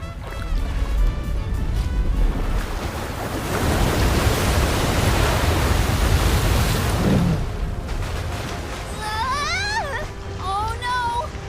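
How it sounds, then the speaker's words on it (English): Heavy waves crash against a boat at sea in Visions of Mana, a loud broad roar of surging water that swells and then eases, with whooping, chirpy game tones rising over the wash near the end. "Is he trying to bust through the wall of waves with brute force?"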